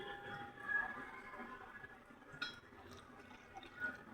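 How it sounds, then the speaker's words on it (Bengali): Water is poured into a spice mix while cooking a curry of young green jackfruit, a faint, close liquid trickle and fill with small drips and a light clink, heard alone. "তো এবার আমি মশলায় জল দিয়ে দেবো"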